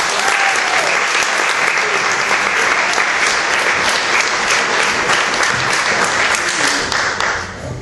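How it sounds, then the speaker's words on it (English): Audience at a fifth-anniversary open mic night applauding a band, dense sustained clapping from a crowd that stays loud throughout and begins to fade at the very end. "Everybody give a big round of applause"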